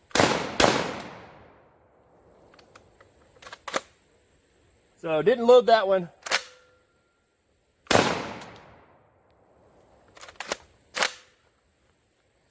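An RIA VRBP100 bullpup shotgun loaded from a drum magazine fires several loud, sharp blasts with pauses between them, some shots in quick pairs; someone speaks briefly midway.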